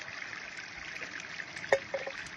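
A faint, steady trickle of water pouring, a soft continuous wash with a small clink partway through.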